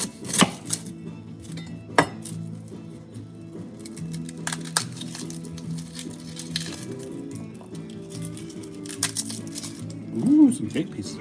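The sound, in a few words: chopping garlic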